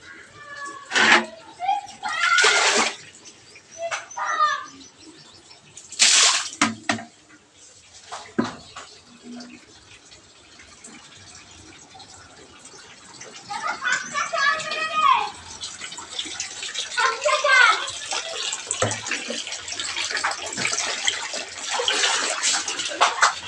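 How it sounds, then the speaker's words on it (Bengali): Tap water pouring into a container in a home kitchen, a running splash that swells and fades in bursts, close by, with someone talking over it and dishes nearby. "তো ভালো জল পড়ছে। জলটা ভরে নিচ্ছে"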